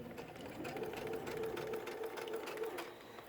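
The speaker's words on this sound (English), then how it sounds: "we'll go ahead and sew a few stitches" A sewing machine stitches fabric for a washable face mask with filter, a steady close whirring run with a faint regular needle rhythm, moderately quiet, with no talk over it.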